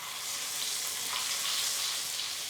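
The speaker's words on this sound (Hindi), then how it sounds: "अदरक लहसुन को अच्छी तरह से हमने भून लिया।" Ginger-garlic paste fries in oil with a bay leaf and cumin, giving a soft, even, continuous sizzle throughout with no voices.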